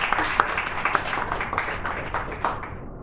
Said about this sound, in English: if we have a huge round of applause for Anirban